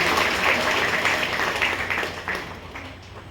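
Audience at a ghazal collection book launch clapping for Vijay Kulkarni, a dense burst of applause that slowly thins and fades toward the end.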